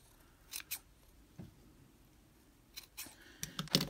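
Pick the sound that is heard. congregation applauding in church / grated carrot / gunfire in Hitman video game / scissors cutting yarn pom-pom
scissors cutting yarn pom-pom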